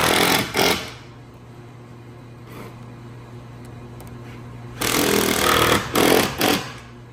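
A power tool fitted with a large Phillips bit drives screws into the mounting of a fold-down glass windshield on a CFMOTO UFORCE 1000, giving two short bursts at the start and a loud, sustained whirring spell with brief stops near the end.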